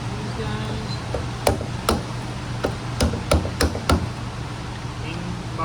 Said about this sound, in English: And then take my hammer and my screwdriver.